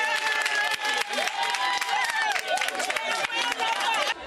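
A crowd claps steadily throughout, honoring a woman for her service with a United Nations mission, while a voice speaks over the dense patter.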